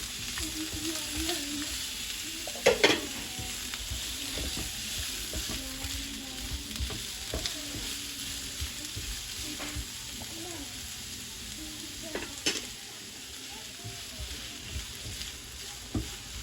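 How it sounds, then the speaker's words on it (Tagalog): Onion, garlic and ginger sautéing together in a pan, a soft steady sizzle that runs throughout, broken by a couple of sharper clatters of a spoon against the pan. "At ako ngayon ay magigisa na din itong ating mga sangkap."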